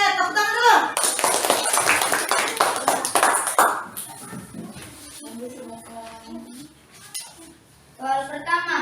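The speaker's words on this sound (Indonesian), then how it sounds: "Oke, tepuk tangan dulu." Applause from a group breaks out, a burst of dense clapping lasting a few seconds, with people talking before and after.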